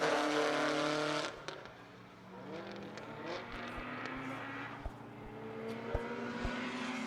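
A race car on a hot lap at Buttonwillow during a racing season final: a loud, sustained engine note that drops after a second, then builds and climbs again, with a few sharp knocks or pops over it.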